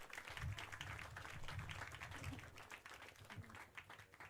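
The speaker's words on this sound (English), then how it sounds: "So let's give them a round of applause." An outdoor crowd at a primary school 6-a-side cricket prize-giving claps for the third-place team, steady, quiet, scattered applause with faint voices and low rumbling beneath it.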